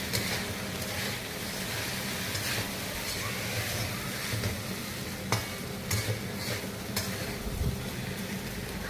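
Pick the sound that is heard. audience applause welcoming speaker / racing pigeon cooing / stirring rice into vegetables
stirring rice into vegetables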